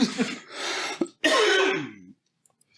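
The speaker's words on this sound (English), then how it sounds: "I can't smoke anymore. I'm coughing too much." After smoking weed, a person coughs hard in a few harsh, close bursts, ending with a long raspy hack and throat clearing before falling quiet.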